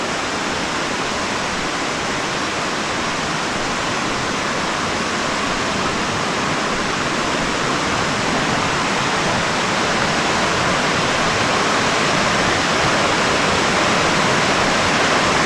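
Water rushes steadily in a stream at Iao Needle on Maui, a loud, even, continuous flow with no pauses and no voices.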